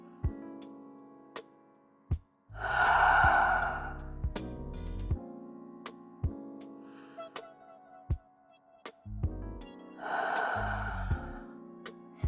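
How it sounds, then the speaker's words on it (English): Two big, deep breaths taken during a yoga session, each a long, audible rush of air, are spaced several seconds apart over soft background music with faint clicks. "Allow yourself 2 more big breaths here."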